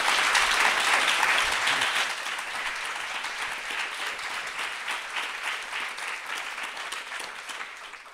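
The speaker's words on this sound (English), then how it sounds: "give them a big round of applause" An audience at a film society panel event claps in a loud, dense burst of applause that eases slightly after the first couple of seconds and then carries on steadily.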